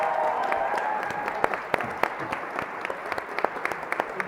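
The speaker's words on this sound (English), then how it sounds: "big round of applause for Vocal Image" A crowd applauds a winning startup at a founders' pitch competition final, a steady dense wash of clapping with a few louder individual claps standing out, moderately loud throughout.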